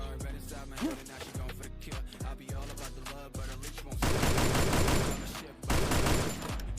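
Rapid bursts of gunfire in the video game Free Fire crackle throughout, with single shots early on giving way to sustained automatic fire in the second half, loud and close.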